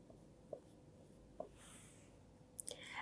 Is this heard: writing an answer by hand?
yes